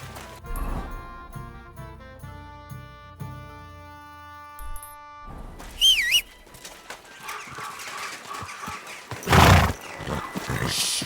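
A horse's whinny in the video game Kingdom Come: Deliverance 2 rises briefly amid game music and ambient effects, followed by another loud burst of sound.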